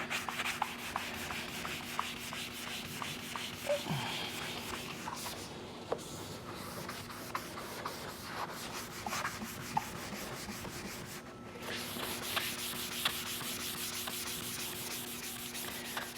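Sandpaper rubs steadily against the body of a replica Testarossa car, a continuous close scratchy hiss with brief pauses, alone and without voices.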